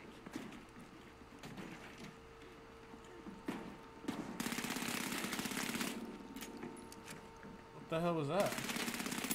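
Rapid automatic gunfire in the video game The Finals rattles in sustained bursts behind a man's brief spoken remark, loud and continuous through the second half.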